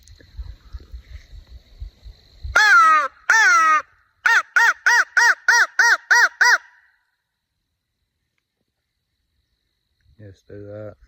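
A hand-blown crow call used for turkey hunting imitates a crow's caw: a couple of drawn-out caws, then a rapid run of about seven sharp caws, loud and close, with a soft rustle before and a short burst at the end.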